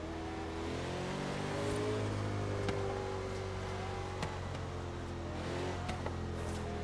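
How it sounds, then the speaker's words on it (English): Car engine in the racing game Forza Horizon 3 hums steadily and builds through acceleration, with rising tonal engine whine and a few faint clicks, sustained and moderately loud with no talk over it. "Car sounds so good, man."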